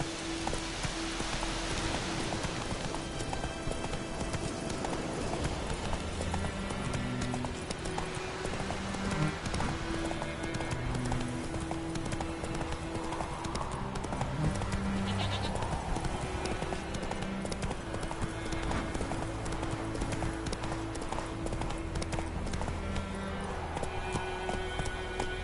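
Roach the horse trotting in The Witcher 3 on PS5, a steady rhythmic clip-clop of hooves throughout, mixed with rain-like patter and background game music, with a brief voice.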